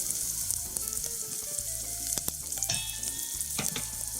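Sliced onion, a sprig of thyme and crushed garlic sizzle and fry in a pan while being stirred, for a Réunion swordfish curry with combava, giving a steady close crackle with scraping utensil knocks.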